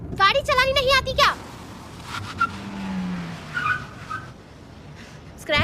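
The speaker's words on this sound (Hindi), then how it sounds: "वो रोड स्लिपरी थी तो गाड़ी आउट ऑफ कंट्रोल हो गई।" A car on a slippery, rain-soaked road skids out of control with a short tire squeal, heard between bursts of speech.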